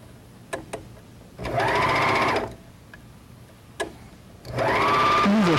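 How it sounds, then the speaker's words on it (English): A Speedylock serger sewing machine stitches along the edge of folded medium-weight woven fabric in two short runs, a fast close whirring buzz with quiet clicks and pauses between the runs. "Stitch along the edge, stopping every inch and decreasing the stitch length."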